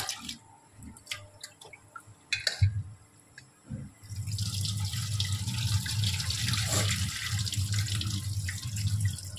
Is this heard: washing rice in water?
yes